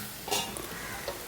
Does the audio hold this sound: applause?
no